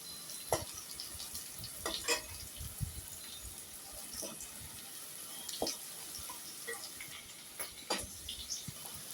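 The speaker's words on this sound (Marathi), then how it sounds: "ते पण व्यवस्थित फ्राय झालं पाहिजे." Crushed garlic, chillies and curry leaves fry in a pan for a Tamil fish curry, giving a faint, steady sizzle with occasional soft clicks and stirring taps.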